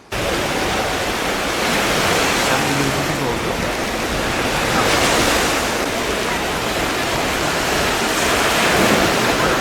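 Black Sea waves break on the shore at Samsun in a continuous loud wash of surf, swelling and easing in slow surges, mixed with wind buffeting the microphone.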